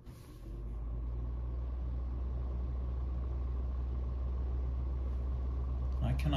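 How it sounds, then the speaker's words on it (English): A Vornado Zippi personal desk fan on its first speed spins up from off into a steady low hum with a soft airy whoosh, running evenly and quietly throughout. "you guys can see and hear just how quiet this fan is"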